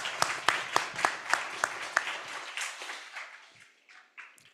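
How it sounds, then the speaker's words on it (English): Audience applause at a techno music conference: a burst of claps with a few sharp individual hits, starting strong, then thinning and fading out over a few seconds. "Round of applause."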